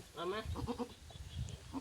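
A Damascus and Zaraibi cross-breed goat gives a few close, wavering bleats in quick succession, with softer animal calls following, against quiet farm background.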